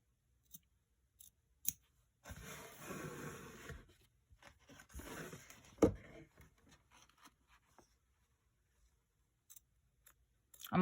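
Sharp fabric scissors snip fabric for appliqué in short bursts of close, quiet cutting and rasping, separated by brief pauses and a few clicks.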